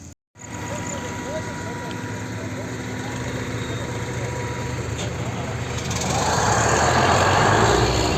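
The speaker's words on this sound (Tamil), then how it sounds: "பாயிண்ட்டுக்கு வண்டி ரெடியாக வந்துடுச்சு" A truck arrives at a borewell drilling point near Perambalur, its engine a steady rumble that grows louder and denser toward the end. Faint voices come and go underneath.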